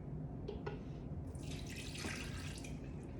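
Water runs and splashes into a measuring cup from close by, a steady pour with a brightening trickle as the cup fills, no talk.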